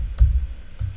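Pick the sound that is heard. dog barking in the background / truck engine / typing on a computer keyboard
typing on a computer keyboard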